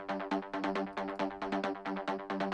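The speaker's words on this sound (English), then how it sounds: "And I think there's one more mid bass here" A mid bass from the Serum synth plays alone as a rhythmic pattern of short, bright, harmonically rich notes, repeating in even pulses with punchy attacks and no voices.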